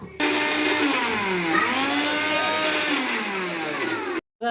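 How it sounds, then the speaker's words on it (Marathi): A mixer grinder whirs loudly and steadily grinding curry leaf chutney, its motor pitch rising and falling as it blends, then cuts off abruptly near the end. "आपण याला करून घेऊ आता मिक्सरमध्ये बारीक"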